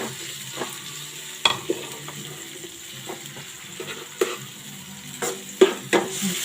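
Tomatoes are stirred into fish sarciado in a frying pan, with a soft continuous sizzle broken by irregular clacks and scrapes of the utensil against the pan, moderately quiet and without talk.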